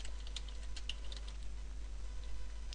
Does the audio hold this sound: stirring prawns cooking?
no